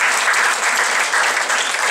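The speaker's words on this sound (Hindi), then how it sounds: "इनके लिए तो अलग से ताली बजाइए।" Loud, sustained clapping from an audience at a Sundarkand recital fills the space, honoring the tabla player, a thick and even burst of hands with no pauses.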